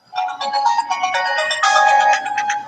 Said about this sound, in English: Must be Steve's phone